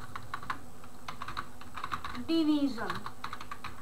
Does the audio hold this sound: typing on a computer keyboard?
yes